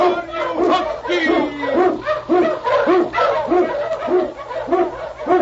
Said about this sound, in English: King, the swiftest and strongest of Eskimo lead dogs, blazes the trail through storm and snow for Sergeant Preston